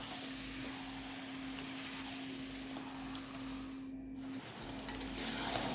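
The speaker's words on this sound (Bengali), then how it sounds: "এবার চিকেনটা ভালো করে কষিয়ে নেব।" Marinated chicken with lemon juice sautéing in a pan, giving a continuous soft sizzle and faint stirring noises alongside a steady tonal hum, with no talking.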